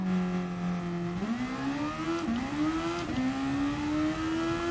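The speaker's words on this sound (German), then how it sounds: "das Zischen hört sich schon irgendwie nach Turbo an" A race car engine in the video game Gran Turismo Sport drones steadily with rising pitch shifts between gear changes, a faint turbo hiss riding over the loud, continuous mechanical whine.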